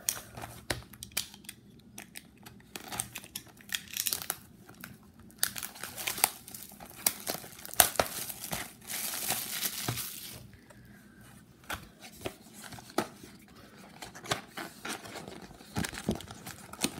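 Topps Star Wars Solo trading card packs are torn and crinkled open up close, with bursts of foil wrapper crackling and rustling, loud stretches broken by quieter handling.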